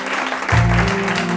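Church congregation at a Sunday service clapping and acclaiming the Lord, a sudden burst of applause with a low voiced swell, brief and close.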